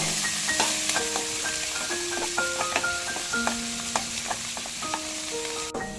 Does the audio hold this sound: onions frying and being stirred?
yes